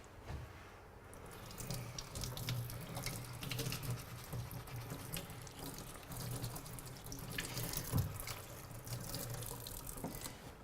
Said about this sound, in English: it's really important you wash it properly